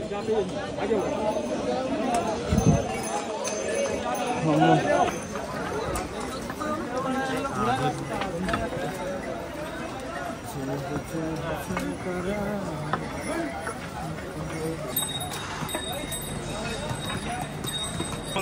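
Horse hooves clip-clop along a mountain pilgrimage trek trail amid a chatter of nearby voices and general outdoor bustle, steady footfalls throughout.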